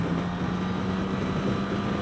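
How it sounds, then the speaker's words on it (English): Suzuki Burgman 650 ABS Executive scooter, a 2016 model, with its engine holding steady revs in the power band while accelerating on the road. A continuous even drone is mixed with wind rush, and no one is speaking. "The engine just revs, gets into its power band, stays there, and you go."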